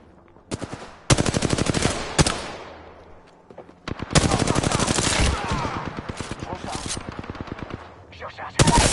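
Rapid automatic gunfire in the Apex Legends video game comes in several loud bursts of close, rattling shots with brief pauses, with voices speaking between them.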